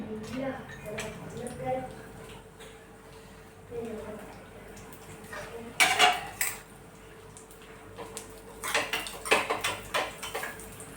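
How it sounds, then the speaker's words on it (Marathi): Almonds roast in ghee in a pan for beetroot ladoo, with soft clinks and scrapes of a utensil against the metal and light sizzling under quiet background sound. "सर्वात आधी मी बदाम भाजून घेते"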